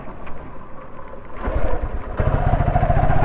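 A delivery motorbike is kicked into life: a rough, low engine rumble starts partway through and settles into a steady, loud idle close by.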